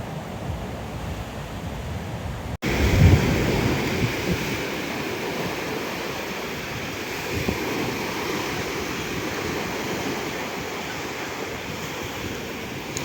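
Continuous rushing surf of Black Sea waves washing on a beach in Odesa, loud and close, with wind buffeting the microphone after a brief cut near the start.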